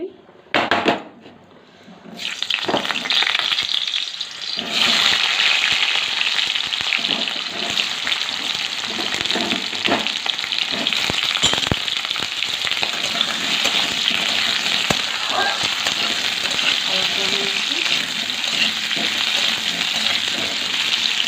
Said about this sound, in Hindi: मुझे आलू को फ्राए करी